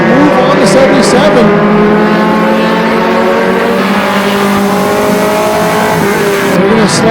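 Mini stock race cars roar down the front straightaway at Flamboro Speedway, several engines revving loudly and close together with rising and falling pitch as they pass, under continuous excited race commentary.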